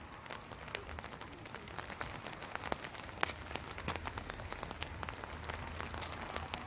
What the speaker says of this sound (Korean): 비가 오고 무지개는 뜨고